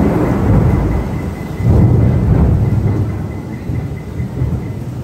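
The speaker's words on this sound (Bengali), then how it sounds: "চারিদিকে বজ্র বিদ্যুৎ সহ এরকম ঝোড়ো হাওয়া বৃষ্টি সবকিছু মিলিয়ে মিশিয়ে চলছে" A loud, close thunderstorm: thunder rumbles and rolls over heavy rain and gusting wind, continuous and dense throughout, with no voices.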